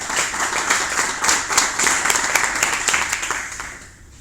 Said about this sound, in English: So please some applause for Sergio.